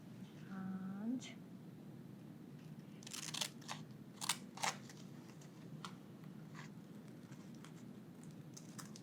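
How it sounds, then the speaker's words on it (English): Scissors cut a sheet of nori seaweed, soft crisp snips and crinkles in a few short irregular clusters, close and quiet, after a brief tonal sound at the start. "when you cut round, you move, the scissors and the hand together"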